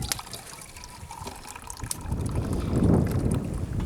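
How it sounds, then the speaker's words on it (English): Coffee poured into a cup indoors, a soft liquid trickle that swells toward the end of the short pour, with no speech over it. "You don't mind if I pour myself a cup, do you?"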